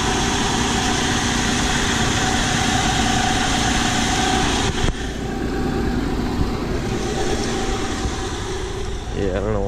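A Nissan Pathfinder engine idles roughly with its RPM dropping, a steady low rumble and vibration that holds throughout and shifts slightly near the end, close and fairly loud.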